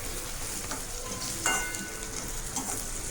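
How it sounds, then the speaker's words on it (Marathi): Egg bhurji with turmeric is stirred and sautéed in a pan, a faint, steady sizzle with a brief scrape of the spatula partway through and no talk. "हळद टाकल्यावर परत परतून घेते."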